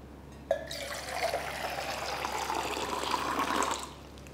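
Water streams steadily between two cups as teh tarik pulling is practiced, beginning with a sharp splash, then a continuous pouring rush for about three seconds before stopping abruptly.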